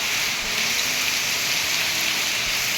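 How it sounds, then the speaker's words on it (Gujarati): A downpour of heavy rain hisses steadily and loudly, with a dense, even wash of drops that stays constant throughout, unaccompanied by any voice. "વરસાદ બહુ વધી ગયો"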